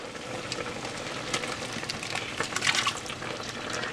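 Blended pepper and onion poured into a pot for Liberian pepper soup make a continuous wet, sloshing pour with small splashy spikes throughout.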